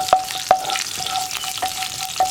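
Cumin seeds sauté in hot oil for a green peas stew, giving a steady, close crackling sizzle with a few sharp clicks from stirring.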